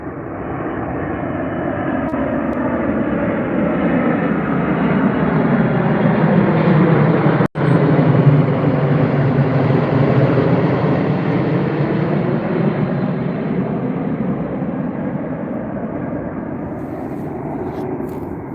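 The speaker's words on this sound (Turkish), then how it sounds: "Evet uçağımız yaklaşıyor." An airplane roars low overhead near Arnavutköy forest, its engine swelling to a loud peak and slowly fading as the pitch sweeps down while it passes.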